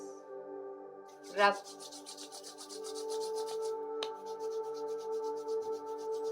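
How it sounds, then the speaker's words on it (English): Hands rub together during a yoga session, a soft, faint dry swishing that comes and goes in short strokes against a quiet background hum. "Rub your hands."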